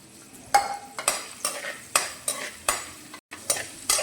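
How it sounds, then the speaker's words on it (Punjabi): Finely chopped garlic cloves and grated ginger lightly frying in a pan, sizzling under about eight sharp, evenly spaced stirring strokes, each with a bright scrape, close and clear, with one brief silent gap. "ਆਪਾਂ ਪਹਿਲਾਂ ਹਲਕਾ ਜਿਹਾ ਇਹਨੂੰ ਭੁੰਨ ਲੈਂਦੇ ਆ"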